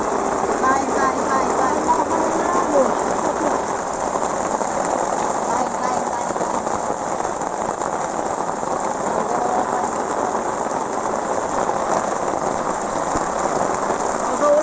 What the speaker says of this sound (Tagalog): Lakas ng ulan mga idol!